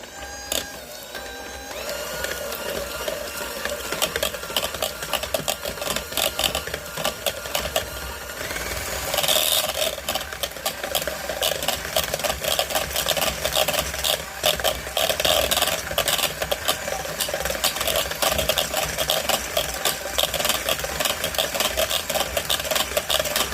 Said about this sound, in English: let's go ahead and get this blended up, and then we'll add our cookie mix